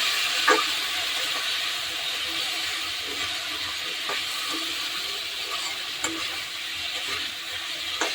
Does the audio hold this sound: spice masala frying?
yes